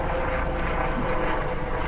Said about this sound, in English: I think that one's a news helicopter.